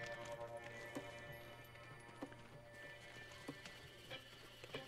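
Quiet, irregular horse hoof clip-clops in the video game Ghost of Tsushima over a steady low hum, a few sharper knocks standing out, faint and slightly distant.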